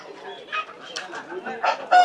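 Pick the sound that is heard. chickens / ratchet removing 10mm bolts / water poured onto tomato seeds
chickens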